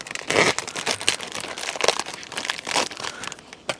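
A knife cuts open a dessert mix packet beside a camp oven, giving rapid crinkling and tearing of plastic in short bursts, close and fairly loud with no talk.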